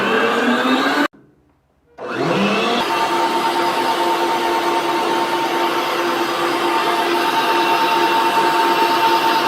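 An electric mixer runs at high speed, beating egg yolks and whites for a fluffy sponge cake. The motor whine is loud and steady, dips sharply for about a second near the start, then resumes and holds constant.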